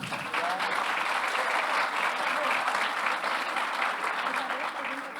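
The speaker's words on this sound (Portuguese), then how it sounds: "palmas pro Elbi" An audience at an industry panel on app development in Brazil applauds panelist Elbi with sustained, even clapping that begins abruptly and carries some crowd murmur underneath.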